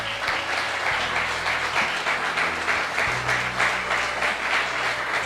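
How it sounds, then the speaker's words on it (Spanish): A church congregation applauds in a steady, moderately loud round of clapping, with a low hum and scattered background noise beneath it. "Pido un aplauso para ella."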